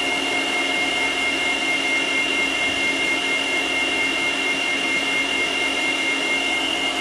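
An electric stand mixer beats thick cake batter, its motor giving a steady, unbroken high whirring drone at even loudness with no pauses.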